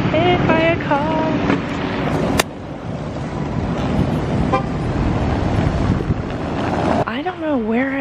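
Car horns honk in short bursts over a steady wash of busy street traffic near a taxi rank in Rome, Italy, with a louder, drawn-out horn toward the end.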